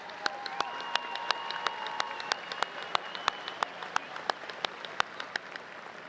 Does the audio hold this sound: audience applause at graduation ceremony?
yes